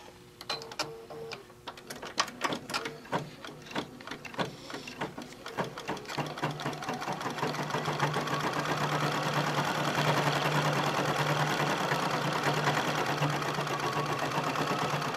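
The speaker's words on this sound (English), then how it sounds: "with my embroidery machine. It's mesmerizing." A Bernina embroidery machine stitches a quilting design, starting with spaced ticking stitches and settling into a steady, fast mechanical whir that holds at an even level.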